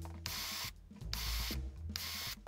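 Power drill with a 1/8 bit boring out tapped holes in metal for a ski bracket install: three loud whirring bursts, each lasting about half a second, separated by short pauses, close up with no talking.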